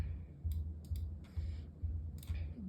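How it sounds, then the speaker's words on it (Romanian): Loud, repeated mouse clicks during a Minecraft session, landing in a steady rhythm of quick taps with a low thumping pulse beneath them. No voices. "Scuzați dacă se aude clicul prea tare"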